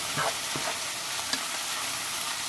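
Garlic sizzles steadily in a pan for a shepherd's pie while a spoon stirs it in a few short scraping strokes, a close, even frying hiss with no voices.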